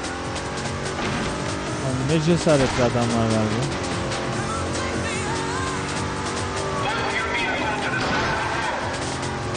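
Racing car chased by police in the Midnight Club 3 video game, a steady engine drone with squealing and brief crash-like bursts, while someone talks over it.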